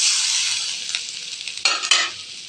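Onions with coriander and mint being sautéed and stirred in a pan: a steady close sizzle with a few sharper scraping stirs toward the end, no talking.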